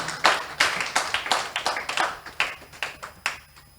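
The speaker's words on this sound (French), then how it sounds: "On acclame pour Acclamez votre sœur." A church congregation claps for someone speaker, hands striking in a quick, even rhythm of sharp close claps that trail off after a few seconds.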